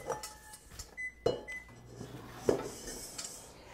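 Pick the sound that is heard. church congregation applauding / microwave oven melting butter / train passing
microwave oven melting butter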